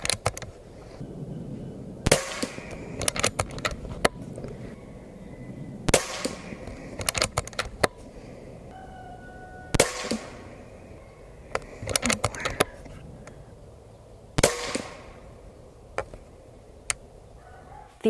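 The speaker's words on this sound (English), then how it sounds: "I'm gonna shoot down at the target below it and see what we get." An Umarex Origin .25 caliber air rifle fires pellets at a target, giving several sharp, loud cracks spaced a few seconds apart, each with a quick metallic ring, over a quiet background.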